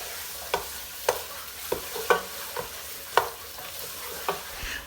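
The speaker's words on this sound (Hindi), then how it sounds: "गाजर को मैंने यहाँ पे स्टार्ट में डाल दिया था क्योंकि ये थोड़ा पकने में टाइम लेती है, तो तकरीबन यहाँ पे मैंने इसे 5 मिनट तक फ्राई किया था" Carrots stir-frying for fried rice in a pan, with a spatula scraping and tossing in regular strokes roughly every half second over a low, steady sizzle, close by.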